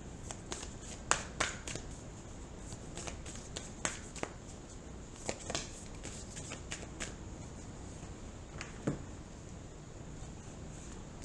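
Oracle cards being shuffled and drawn, giving soft scattered snaps and flicks at irregular intervals over a quiet room hiss, with no talking.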